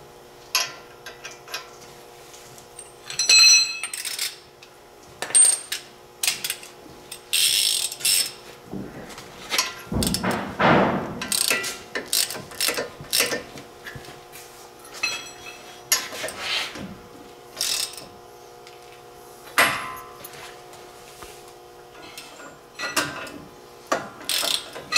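A ratchet wrench tightens the ball joint nuts on a Dodge Ram 3500 front end, with bursts of rapid clicking between pauses, metallic clanks of sockets and tools, and a louder clatter midway, all close and without speech.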